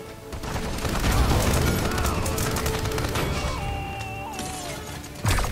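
Gunfire from the character Viktor in the Paladins video game: dense, continuous rapid shooting with crashing impacts and effects, loud and sustained, ending in a sharp burst.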